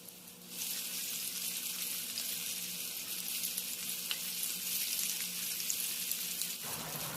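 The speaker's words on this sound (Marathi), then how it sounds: "गोल्डन ब्राऊन कलर येईपर्यंत प्रॉन्स फ्राय करू" Prawns fry in a pan over a low flame, giving a steady, close sizzle that starts abruptly and holds evenly for several seconds, with no voices.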